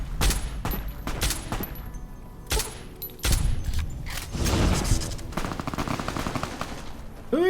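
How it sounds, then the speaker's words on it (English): Gunfire in a battle against the Legion in Fallout: New Vegas: sharp, loud shots ring out in uneven bursts, with a few rapid volleys and broadband blasts over a busy game backdrop. "Who is shooting?"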